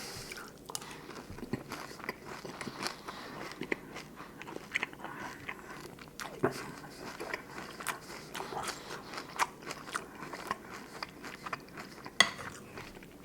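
Raisin Bran cereal with milk chewed close to the mic, soft repeated crunchy bites and mastication with occasional spoon clinks against a bowl, no talking.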